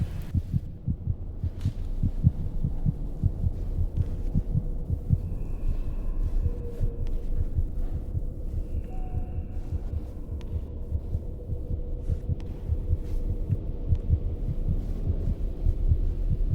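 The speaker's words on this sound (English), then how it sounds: "we added like heartbeats here to kind of foreshadow things" A low, steady heartbeat throbs through the whole stretch in the game Among The Sleep, a dark maze area, with soft repeated pulses under a murky hum and no voices.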